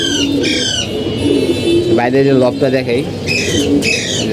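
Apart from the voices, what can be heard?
game pigeons cooing in loft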